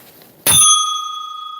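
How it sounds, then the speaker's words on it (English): A bicycle bell is struck once, ringing out loud and close with a bright metallic ding that sustains and shimmers as it slowly fades, alone with no talk. "Gotta ring the bell."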